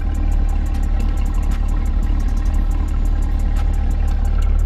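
A C8 Corvette idles close by, a steady low rumble with a fast, even pulsing throb that holds constant throughout, loud and alone without talk.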